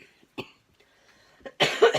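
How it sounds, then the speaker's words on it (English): Several coughs and throat-clearing sounds from someone sick with a lingering virus, close and fairly loud: a single short cough, a small rasp, then a harsher burst of coughing at the end. "I'm going to apologize up front if I keep clearing my throat."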